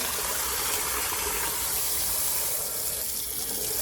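Water runs steadily from a tap as a knitted stocking is rinsed beneath it, a close, continuous splashing gush at a constant level throughout.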